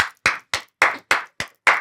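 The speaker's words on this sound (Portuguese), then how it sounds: "eu sozinho quero aplaudi-lo" One person applauding a guest with seven evenly spaced, sharp, close claps in steady rhythm, clear and alone with silence between each.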